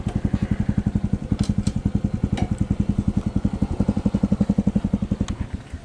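A Honda CT125 motorcycle with a 142cc big bore engine runs close by, its steady, rapid thumping exhaust pulses loud and even before the engine cuts off at the end.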